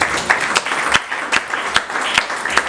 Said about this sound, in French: Voilà, nous acclamons pour le Seigneur.